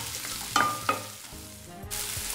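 Chopped garlic and ginger frying in a pan make a close, steady sizzle, with a couple of bright metallic clinks early on and a brief scraping stir.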